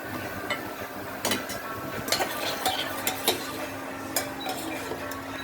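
Potatoes frying in oil in a pan for Kashmiri dum aloo, with a steady soft sizzle beneath a few sharp clinks of a utensil against the pan.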